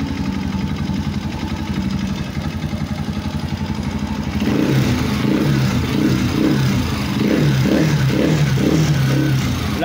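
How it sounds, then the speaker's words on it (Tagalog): A TMX 125 motorcycle engine, its knocking fixed, idles steadily, then revs up halfway through into a louder, throbbing run with a rhythmic mechanical pulse; no voices. "Ayan na yung tunog ng makina."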